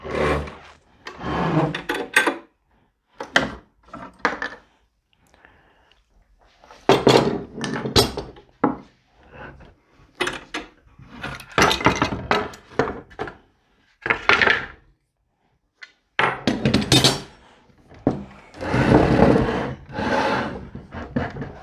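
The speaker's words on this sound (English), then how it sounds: "now we will remove the clamps and see the result" Metal clamps come off a glued wooden chair during a repair, with bursts of clanking, rubbing and wooden knocks separated by short silent gaps, close and fairly loud.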